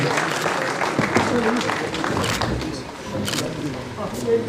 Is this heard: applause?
yes